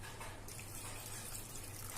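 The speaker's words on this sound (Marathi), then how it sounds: "आता हे ताटातलं जे गरम पाणी आहे ते आपण त्याच्यात ओतून घेऊ." Hot water pours from a plate into a pot of mutton rassa, a short, steady splashing gush at moderate volume.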